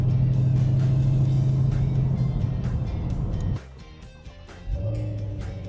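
A Ford Mustang Shelby GT350 with its 5.2-litre V8 and exhaust valves open, idling loud and deep close by, then dropping off briefly before the rumble swells back up.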